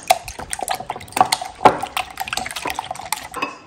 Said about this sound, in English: so I'm gonna add 4 eggs. And then I'm gonna mix that up